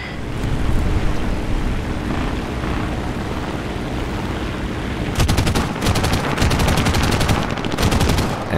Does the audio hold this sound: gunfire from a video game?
yes